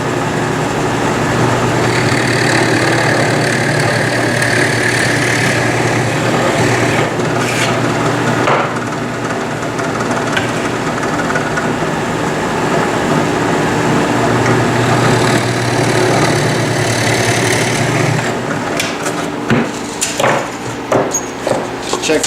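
A drill press bores about half an inch into wood to make a dowel hole for a homemade bucksaw. A loud, steady whirring grind runs throughout, with a few sharp clicks and knocks near the end.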